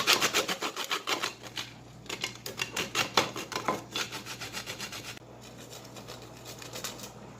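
Something being grated by hand for Jamaican gizzadas, a coconut pastry: a steady run of rasping strokes, close and fairly quiet, growing softer and smoother toward the end.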